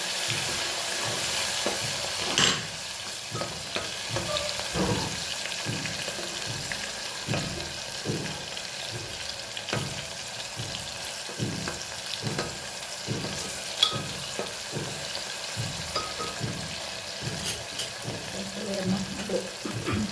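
Tomatoes and two green chillies sizzle steadily in a frying pan over a low flame, a continuous close crackle broken by repeated soft stirring scrapes, with no talk.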